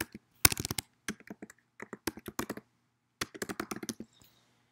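Keys clack on a computer keyboard while a Word document is formatted in APA style, with quick irregular bursts of close, crisp typing separated by short pauses.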